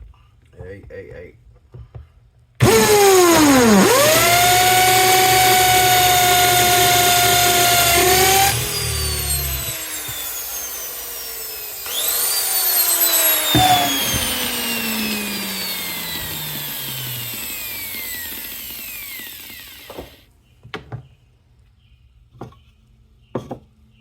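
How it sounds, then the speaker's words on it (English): A power drill bores a hole: a loud, close, whining motor runs for several seconds, its pitch sweeping and shifting as it bites, pauses briefly, then runs again before stopping, with a few clatters after. "I need to at least drill something in there to get started."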